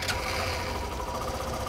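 A Hero Glamour BS6 motorcycle engine idles steadily at close range, with a low, continuous rumble and a faint mechanical rattle and no voices.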